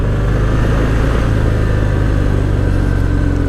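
A Harley-Davidson Fat Bob 114 engine rumbles steadily at a low, throaty idle-like pitch, loud and close, with constant wind-like noise over it.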